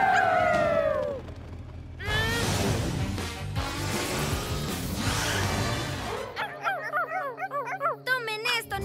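Cartoon dogs howl loudly in a drawn-out wavering chorus over a busy animated scene with music and effects, then gliding whoops and yips take over.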